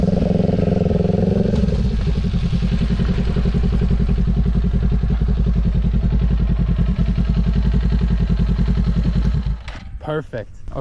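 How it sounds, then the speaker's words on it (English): A motorcycle engine idles, then pulls away steadily as the clutch is released, its note holding through the throttle before it fades out near the end, close with a voice talking over it. "Slowly let out the clutch, let it grab, throttle, upshift."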